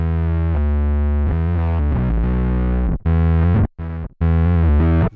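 An EHX Bass Micro Synth's square wave voice gives a thick, buzzing, heavily distorted synth bass, held as a long sustained note and then cut into sharp gated bursts with abrupt silences between.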